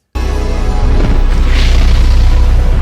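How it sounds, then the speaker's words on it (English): A deep, loud boom from a science-fiction TV show depicts the Big Bang, starting abruptly and rolling on as a sustained low rumble with no talk. "Yo, the Big Bang again."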